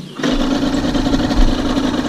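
Motorcycle engine after carburetor tuning, catching at the start, then holding a loud steady idle with a slight surge partway through, close by and without talk.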